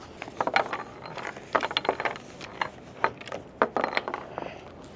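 A compact roll-up solar charging panel is unrolled, giving bursts of crinkly, ratcheting clicks and light rattles in an uneven rhythm, close and fairly quiet, with no talking.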